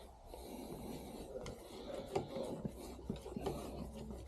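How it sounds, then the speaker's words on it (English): A Phillips screwdriver spins screws into a car alternator, giving a quiet, steady scraping and rasping with faint metallic ticks and small clicks scattered through it, close by and unaccompanied by talk. "Now we can use our Phillips screwdriver just for a bit of speed."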